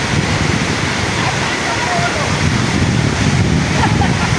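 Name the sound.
waterfall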